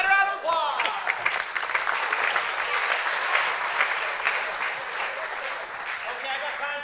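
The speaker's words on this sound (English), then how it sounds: "Give her a round of applause." Sustained audience applause fills the room for nearly seven seconds, dense and steady at close range, with a brief voice at the very start.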